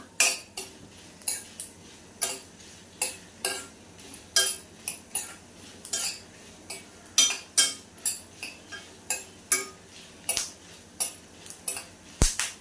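Byadgi dried red chillies roasting in a pan while being stirred, heard as regular, rhythmic scraping and clinking of a spoon against metal, close and clear, with no talk.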